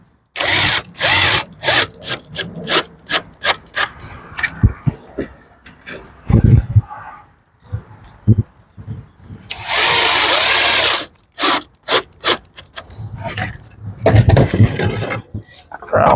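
A power drill drives screws into reclaimed pallet plywood in repeated loud whirring bursts of varying length, close by, with short pauses and some knocking between runs.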